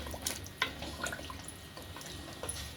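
Water is poured into a pot of mutton paya curry, a faint, soft splashing and trickling with a few small drips, heard alone at low level.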